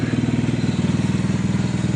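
A Motor Star motorcycle engine idling close by, a fast regular low putter with even pulses, loud and alone with no voices, right after a headlight bulb swap.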